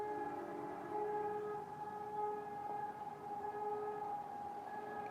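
A wailing emergency siren under test drones steadily at a distance, its tones holding and wavering gently over several seconds, faint and alone.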